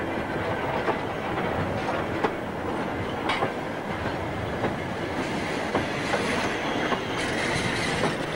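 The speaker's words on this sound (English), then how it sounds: "The train is now pulled clear of the points for the cement work sidings" A freight train hauled slowly by a locomotive past cement works sidings at Chinnor, with a continuous heavy rumble, rhythmic wheel clatter and occasional brief squeals, and no voices.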